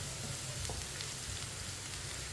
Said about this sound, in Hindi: प्याज को हल्का सा ब्राउन कर लेंगे। इसे चम्मच चलाते हुए ब्राउन करना है।